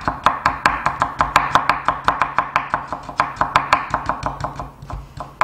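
Peeled carrot slices julienned with a knife on a cutting board, a fast, even run of sharp close chops, about five per second, steady and loud with no voices.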